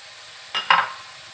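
Boiled carrots tipped into a pan, a brief soft thud followed by a short scrape and clink of stirring, moderately close, with quiet room noise before and after.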